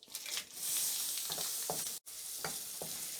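Dried red chillies and ginger fry in a pan of oil with mustard seeds and asafoetida, producing a loud, continuous sizzle broken by a few soft stirring clicks and one momentary drop.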